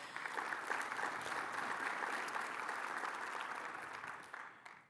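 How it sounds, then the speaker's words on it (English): Audience at the Rural Prosperity Summit 2023 in Georgia giving a sustained round of applause, dense and even throughout before fading slightly at the end. "Would y'all please give a round of applause?"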